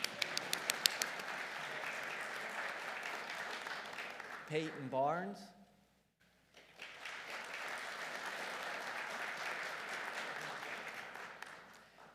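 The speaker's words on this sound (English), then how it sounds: "Yeah, you can clap if you want." Applause spreads through an audience at an honors convocation, breaking off briefly when a voice announces a name, then the clapping resumes and continues steadily before fading.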